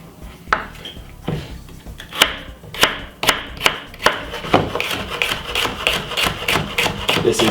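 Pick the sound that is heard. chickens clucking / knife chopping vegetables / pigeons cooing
knife chopping vegetables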